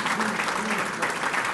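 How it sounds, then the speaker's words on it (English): A dinner audience at an honorary degree event breaks into steady, dense applause that fills the room. "Let's give him a round of applause."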